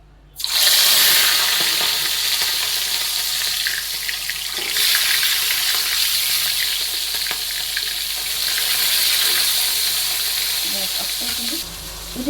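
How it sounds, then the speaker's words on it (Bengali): Fish frying in hot oil in a wok gives a loud, dense, continuous sizzle that starts abruptly and rises and falls slightly before cutting down near the end, with no talk. "তেলটা বেশ গরম হয়ে গেছে এবার আমি মাছগুলো ভেজে নেব"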